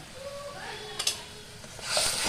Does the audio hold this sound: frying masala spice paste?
yes